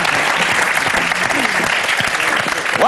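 Loud, dense audience applause on a French television entertainment show, many hands clapping continuously while a voice speaks over it and a whoop rises near the end.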